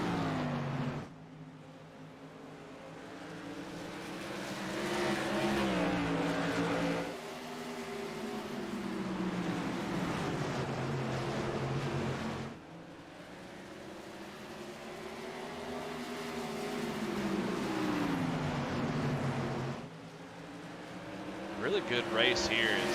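Modified race cars on a Killin' Time Tour Mods oval drone past in a tight cluster, engines swelling and falling in repeated waves as laps go by, with a commentator talking over the steady roar.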